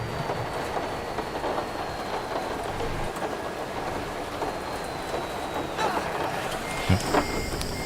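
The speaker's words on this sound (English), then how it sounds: "it's like you can hear the tapping of the rain" Rain in the bus-driving video game Bus Bound patters as a continuous dense hiss under a running vehicle's drone, with a faint tonal beep and a few knocks late on.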